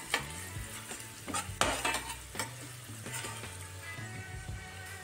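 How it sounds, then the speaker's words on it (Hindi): Masala for egg bhurji fries in a pan, a steady sizzle broken by repeated scrapes and clinks of a spoon stirring against the metal, close and busy. "हमें ज़्यादा भूनना नहीं है, इसे एक से दो मिनट तक इसे भूनना है"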